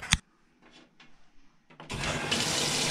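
Water rushes steadily into a GE stackable washing machine drum after a drum replacement, starting abruptly partway through and continuing as a loud broadband flow, preceded by a sharp click and a few faint clunks.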